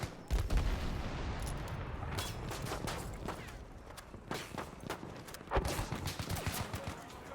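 Pistol shots and other gunfire crack from a 32-versus-32 multiplayer shooter game, firing in irregular bursts at moderate level over a busy battlefield din.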